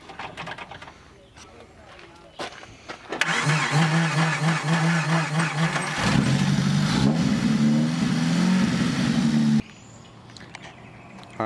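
A car engine cranks and fires after a new alternator install, a loud starter whir that catches into a running idle, then stops abruptly; quiet background sounds and a voice come before and after.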